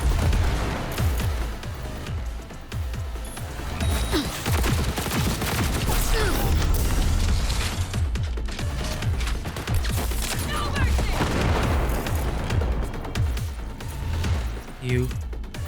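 Gunfire and explosions in a video game played on very hard, dense bursts of shots and booms running nearly continuously at high volume, with a voice talking over the din.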